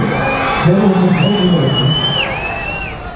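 A large outdoor crowd at a Ugadi festival concert in Kolar cheers and whoops loudly and continuously, with shouts and high whistles rising above the roar.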